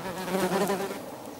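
Yellowjacket wasps buzz close by, a brief, steady, loud droning hum with a wavering pitch and no voices.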